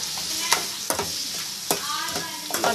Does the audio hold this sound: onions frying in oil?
yes